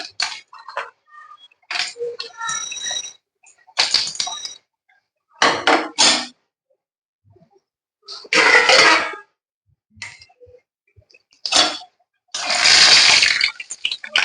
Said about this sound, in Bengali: তেলটা গরম হোক, হলে বড়িগুলো ভেজে নেব।